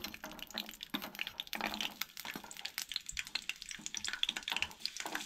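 Garlic and ginger sauté in oil for a Goan stuffed brinjal curry, a quiet, crackly sizzle with irregular little pops and stirring scrapes throughout, close and without speech.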